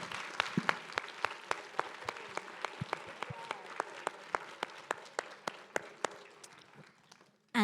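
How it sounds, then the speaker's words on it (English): A small audience at an in-conversation arts event claps in steady, distinct individual claps with a fairly sparse, even rhythm, close and clear, fading out near the end. "a good round of applause"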